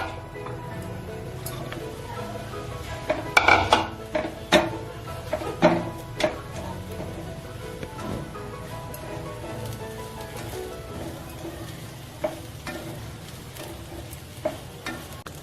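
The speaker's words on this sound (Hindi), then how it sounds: "ब्रेड को हम ऑयल डाल के रोस्ट करेंगे। कढ़ाई हमारी गरम है।" Bread roasts in oil in a hot kadhai with a steady, gentle sizzle, broken by a few sharper clicks and scrapes of stirring partway through.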